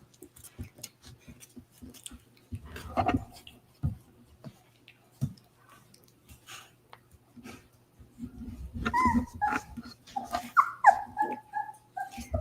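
A roughly three-week-old puppy whimpers near the end, giving several high thin whines after quieter shuffling, ticking and soft handling sounds.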